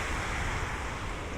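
River water rushes along at Annamalai near Pollachi, a broad, steady roar of flowing current heard close by with no voices.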